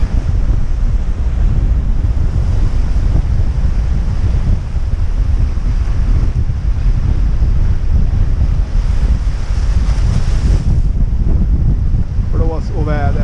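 Strong wind roars over a sailboat crossing the Bay of Biscay, with waves rushing and heavy microphone buffeting in a loud, constant wash, a voice briefly heard near the end.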